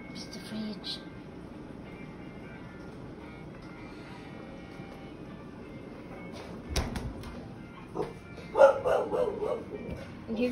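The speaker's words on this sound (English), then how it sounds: "And here goes my annoying dogs." Dogs barking indoors in a home kitchen, a few short yips and barks rising toward the end over steady household background noise.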